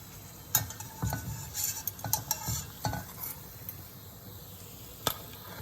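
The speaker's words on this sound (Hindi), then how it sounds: "मैं इसी तरह सभी को फ्राई कर ली हूँ और मैं फ्राई कर रही हूँ" Veg fish-shaped samosas frying in oil in a pan, a faint steady sizzle with soft clinks and scrapes of a utensil stirring and turning them.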